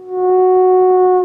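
A theremin holds one pure, steady tone for just over a second, swelling in smoothly and fading at the end.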